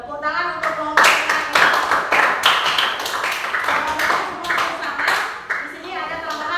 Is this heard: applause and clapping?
yes